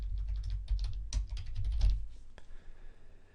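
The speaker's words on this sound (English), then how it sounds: "I can just type in for my keyword, I'm going to do golf swing." Someone types a keyword on a computer keyboard, a close, clear flurry of quick key clicks with uneven rhythm before the tapping thins out near the end.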